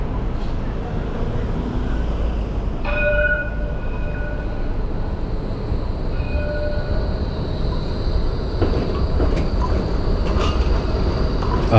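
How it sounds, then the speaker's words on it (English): Melbourne E1 class tram rolling past on a city street, a steady rumble of wheels on rail with brief squeals and rattles, mixed with traffic and street noise and faint voices. "This tram here, 6029, it's an E1 class"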